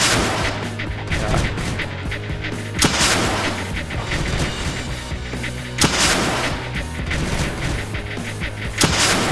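Weapons in Creeper World 2 firing repeatedly at an enemy probe, a dense loud barrage of booming artillery-like shots with sharp periodic blasts, continuous and without voices.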